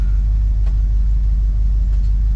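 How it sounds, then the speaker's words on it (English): Idling car engine with a TH400 automatic transmission being shifted through its gears, a steady low rumble throughout, close and even, with no talk. "Just kind of shift through all the gears, back to neutral, turn choke off."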